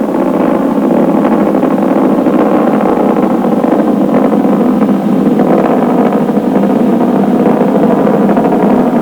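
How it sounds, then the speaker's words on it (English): Space Shuttle Discovery's three main engines during the STS-51 launch, throttling down through maximum dynamic pressure: a loud, steady, continuous rocket roar with no break. "Discovery's engines now throttling down as the orbiter passes through the area of maximum dynamic pressure on the vehicle"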